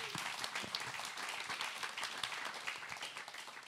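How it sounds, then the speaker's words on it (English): Audience applause at a Cologne Pride Week event on queer activism, a dense and even wash of many clapping hands, moderately loud and continuous, with no one speaking over it. "A big applause"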